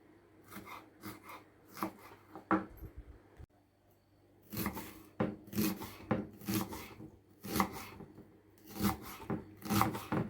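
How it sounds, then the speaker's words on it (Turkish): Repeated knife strokes chop through crisp onions on a board, coming in quick bursts with a short pause partway through, close and fairly quiet. "soğanlarımı doğrayacağım. Doğruyorum."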